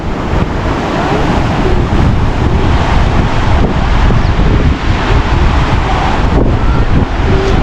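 A loud, constant roar of a milky-white glacial meltwater river near Sonamarg fills the scene, dense and unbroken, with wind buffeting the microphone.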